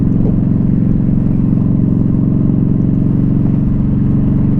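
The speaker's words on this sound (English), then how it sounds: "We got the Yamaha V-Star 1300 Deluxe Special Edition." A 2015 Yamaha V-Star 1300 Deluxe Special Edition cruiser motorcycle with its 1300cc V-twin idles steadily and loudly nearby, a continuous low rumble with no talking.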